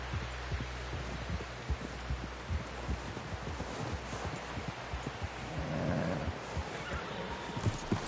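A horse in the video game Red Dead Redemption gives steady rhythmic hoofbeats with faint neighing over a low rumbling background, heard alone at moderate volume.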